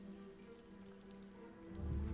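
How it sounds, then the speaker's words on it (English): Rain falling in the Hogwarts Legacy video game, a soft continuous patter over low ambient game music that swells louder toward the end, with no voices. "it started raining"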